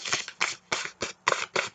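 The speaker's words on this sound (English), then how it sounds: "what I'm going to do to give it a little bit of texture is crumple them up." Paper wings for a bumble bee craft are crumpled by hand in six quick crinkling bursts, each crisp and close, separated by brief pauses with no talking.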